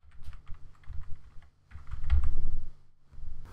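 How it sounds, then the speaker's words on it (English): Computer keyboard keys clatter in two quick bursts of typing as a short document name is entered, close and clear with a brief pause between bursts. "so I'm going to name my document Tucson by typing it in."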